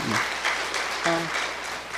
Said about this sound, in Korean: 박수를 쳐줘야 됩니다